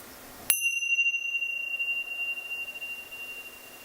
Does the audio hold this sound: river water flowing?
no